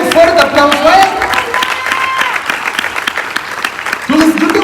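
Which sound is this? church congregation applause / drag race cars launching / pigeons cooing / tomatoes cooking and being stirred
church congregation applause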